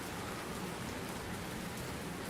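Rain pours onto parked cars and the street during an unexpected summer shower, a dense, even, steady hiss throughout, fairly faint and with no voices.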